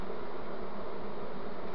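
A honey bee swarm hums as a dense, steady buzz, close and continuous with no breaks and no voices over it.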